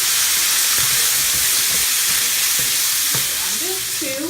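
Ground sirloin, onion and Cuban pepper sizzle loudly in a pan at a camp cookout as Worcestershire is added, a steady close hiss with occasional stirring scrapes.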